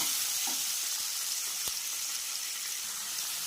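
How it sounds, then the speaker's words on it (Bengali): Tomatoes sauté in hot oil for a poppy-seed katla fish curry, giving a steady, close, even sizzle with a faint tap or two and no speech. "টমেটোটা নরম হয়ে গেছে, এবার হালকা একটু নুন দিয়ে নেব, হালকা নিয়ে কষতে হবে। টমেটোটা একটু কষতে হবে"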